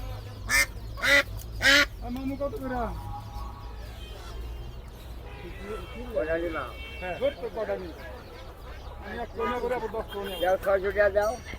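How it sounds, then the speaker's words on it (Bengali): Chinese and local ducks quack loudly in repeated bursts, with people talking nearby in a busy, noisy market. "এখানে চীনা হাঁস আছে চীনা হাঁস আছে এগুলা দেশি হাঁস"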